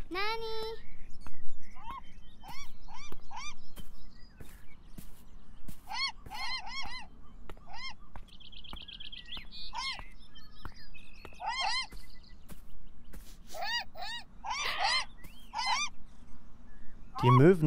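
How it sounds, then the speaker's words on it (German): Seagulls crowd around bread and call again and again, their honking, squawking cries coming in clustered bursts close by over a quiet outdoor background, alone with no speech. "Die Möwen rotteten sich um das Brot herum und schlangen es gierig herunter."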